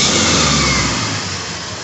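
A 1980 Triumph TR7 engine running steadily up close, a loud continuous mid-pitched hum that eases back slightly toward the end, with no talking.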